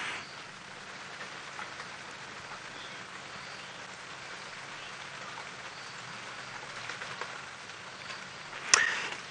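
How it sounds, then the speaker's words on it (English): Steady light rain patters on the roof of an open safari vehicle during an early morning game drive in a South African private reserve, a soft continuous hiss with scattered drop taps and no talking. "And it seems like the rain is about to start again. I can hear the pitter-patter on our little Flintstone mobile."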